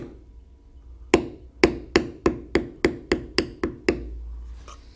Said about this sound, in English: we will go to the smaller tool and carefully bevel that down